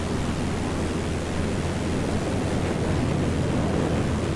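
Steady broadband wind rush in flight in a Cessna 172 flight simulator game, a constant loud whooshing roar with a low drone underneath and no talk.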